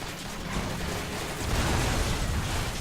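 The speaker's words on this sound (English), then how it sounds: "Someone's shooting at me." Gunfire in the Transformers: Rise of the Dark Spark video game, a dense, loud, continuous barrage of blasts and bursts with no pauses.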